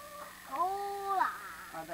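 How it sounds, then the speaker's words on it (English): A bunch of chickens cluck and call nearby outdoors, with a drawn-out tonal squawk in the middle and shorter clucks around it. "there's a bunch of chickens in there"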